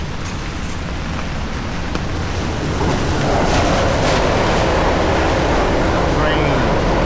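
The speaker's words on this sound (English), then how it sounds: "Rain." Steady rain falls outdoors on a street in Japan while someone walks through it, a broad hiss that swells louder partway through, with wind buffeting the microphone and occasional voices.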